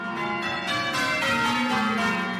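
Church steeple bells in the North End ring with overlapping sustained tones, loud and continuous, with no voices over them.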